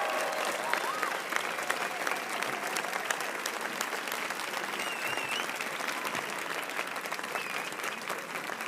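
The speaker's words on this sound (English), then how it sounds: "a massive round of applause for all three cameramen and the guy who's organising the stream over there for all of their hard work" Sustained concert audience applause at a livestreamed one-man show in Barcelona, an even, dense wash of clapping that holds steady for several seconds at moderate distance.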